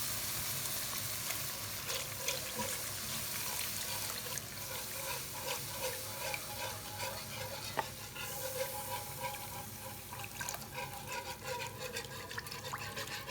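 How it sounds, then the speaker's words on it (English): Milk is poured into sausage gravy in a pan while a whisk stirs continuously, giving steady scraping, swishing and light sizzling with liquid sounds, close and at moderate level, throughout. "I'm going to pour in this milk, and I'm going to whisk as I pour."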